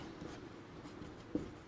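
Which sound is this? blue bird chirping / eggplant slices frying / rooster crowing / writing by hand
writing by hand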